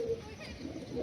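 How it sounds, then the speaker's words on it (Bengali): Malwai pigeons perched in the dark give low, soft coos, heard close and steady through the short moment. "সব অন্ধকারে একদম পায়রাগুলো বসে আছে"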